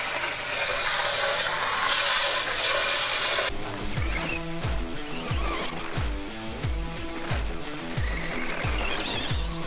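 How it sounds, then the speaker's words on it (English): Water sprayed onto the body of a toy RC monster truck gives a loud, steady hiss for roughly the first three and a half seconds, then gives way to music with a thumping beat. "spray down the body and let that soak for a little bit"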